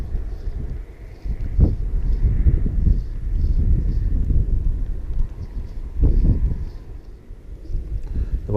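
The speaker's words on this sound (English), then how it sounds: "The wind's more or less blowing right to left" Wind gusting across an open lough shore in mild October weather, a steady broad rush buffeting the microphone with louder surges, no voices.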